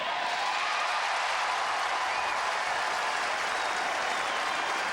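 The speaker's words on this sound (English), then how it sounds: "the break back, cheered by the fans here in New York for Dent" A tennis crowd at the US Open in New York applauds and cheers for Taylor Dent after a break of serve, a dense, steady roar of clapping from many hands across the stands.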